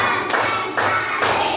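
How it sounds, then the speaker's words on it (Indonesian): Hands clap in a children's counting clapping game, three sharp broadband claps spaced about half a second apart, close and loud with no talk over them. "Tepuk konsentrasi. Tepuk 1, tepuk 2, tepuk 3, tepuk"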